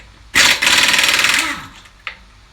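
Impact wrench loosening 22 mm lug nuts on a car wheel, one loud close buzzing rattle lasting about a second, followed by a short metallic clink.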